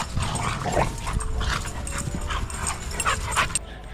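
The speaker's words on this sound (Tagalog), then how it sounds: "Nagingay na yung mga aso kaya alam ko na yung basura nandito na" Several dogs in an Edmonton, Alberta neighbourhood yip and whimper in short, excited bursts as a garbage truck arrives, with a low rumble beneath them.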